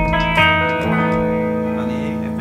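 A clean, unprocessed electric guitar chord rings out and sustains, dry with no effect, fading slowly.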